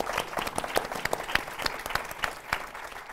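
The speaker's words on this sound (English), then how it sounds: "good applause means the pressure's on, panel" An audience at a development conference session claps for a panel, a dense steady round of applause from a room full of people, fairly close.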